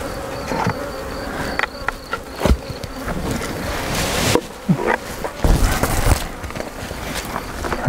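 Honeybees swarm in an opened Langstroth hive, giving a loud, dense buzzing hum that continues throughout. Close clunks, scrapes and knocks of frames being handled break in irregularly over it.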